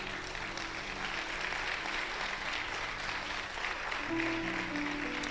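Dense applause from a church congregation during a Spanish-language sermon, continuous and fairly loud, with a sustained musical tone beneath it from a keyboard or similar instrument.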